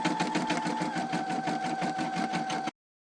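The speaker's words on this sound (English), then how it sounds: "trying to take a memory stick out of an embroidery machine while it's in the process of embroidering" Embroidery machine stitching a design, a steady rapid mechanical hum with a dense rhythmic needle chatter that cuts off abruptly near the end.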